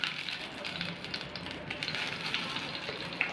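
Green chillies sizzling in a little hot oil in a pan, a steady bright crackling hiss with scattered pops, fairly close and continuous.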